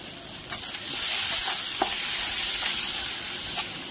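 Chopped tomato fries with spices in hot oil for a banana-flower and potato dish, a steady close sizzle with a few light spoon stirs and taps, and no voices.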